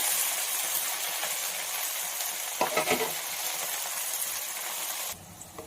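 Spinach fries in a pan with a close, steady sizzle and a brief burst of stirring and scraping partway through, before the sound drops away abruptly at the end.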